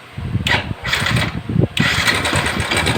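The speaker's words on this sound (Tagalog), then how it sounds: "paandarin natin yung kanyang makina" A small boat engine cranks and catches, chugging roughly and unevenly before settling into a louder, steady running rattle.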